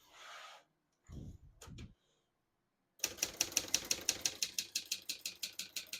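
A 1966 Hermes 3000 portable typewriter fitted with a 3D-printed platen types a steady run of crisp, close keystrokes, preceded by a few softer mechanical rubs and clunks and short silent gaps.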